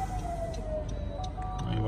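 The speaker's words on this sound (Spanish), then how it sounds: "Ahí va la patrulla." A police patrol car siren wails past on the road near La Peñita de Jaltemba, its steady falling tone heard from inside a moving car, loud over road rumble for the whole stretch.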